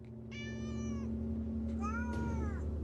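A cat meows twice, clear and fairly close, the second call wavering, over a steady low hum in the background.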